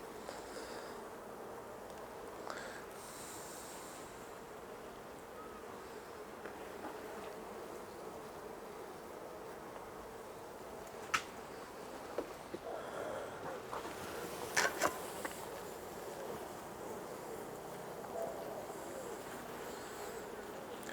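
Honeybees buzzing in a dense, steady drone around an open beehive, with a few brief knocks and clicks over the hum and no talking.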